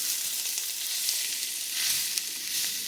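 Potatoes and onions fry in a skillet for a breakfast dish, a steady close hiss of sizzling with faint crackles and no voices.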